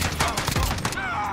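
Gunfire in the video game Modern Warfare, a quick burst of rapid shots close up, with a voice heard faintly underneath.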